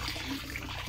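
Cold tap water flowing steadily during hand-washing of clothes at home, a continuous close splashing rush from start to end, with faint speech under it.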